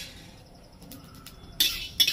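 Whole spices (black and green cardamom, mace, shahi jeera, black peppercorns) fry in a hot bronze wok: a near-silent stretch, then two sharp, bright crackling sizzle bursts close by toward the end.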